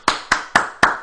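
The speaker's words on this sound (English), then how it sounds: "that's the sound of me applauding this person" Four sharp hand claps spaced evenly about a quarter second apart, close and crisp, each with a short room decay.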